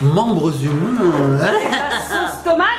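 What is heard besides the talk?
No distinct noise like a dog, phone or traffic.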